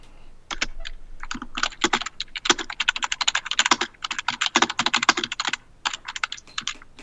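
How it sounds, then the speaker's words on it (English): Rapid, uneven keystrokes on a computer keyboard clatter close by for several seconds, bursts of taps separated by brief pauses, with no talking over them. "we're listening to me type"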